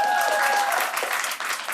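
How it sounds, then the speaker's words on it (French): Brief burst of audience applause at a stand-up comedy show, dense clapping with a voice briefly heard at the start, dipping and continuing. "on applaudit les battés"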